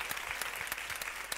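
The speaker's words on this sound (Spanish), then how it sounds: "Un fuerte aplauso" A summit audience breaks into applause, a soft, even wash of many hands clapping at once, with a few sharper individual claps standing out from the continuous patter.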